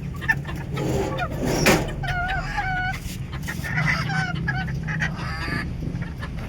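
Several chickens cluck and squawk close by in short, overlapping bursts, with a low background hum underneath.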